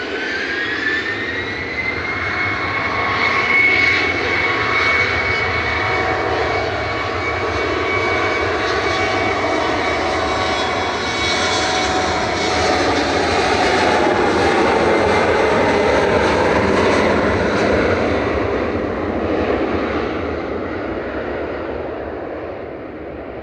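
A TAP Air Portugal jet takes off at Manchester Airport bound for Lisbon, its loud, close engine roar holding steady for about twenty seconds with a rising high whine on top before slowly easing away.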